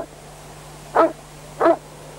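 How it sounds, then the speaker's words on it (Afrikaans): A dog gives two short, clear barks, evenly spaced and fairly close, over a quiet background with a low steady hum, in an Afrikaans-dubbed episode of the cartoon Heidi. "Hoor hoe blaf hy."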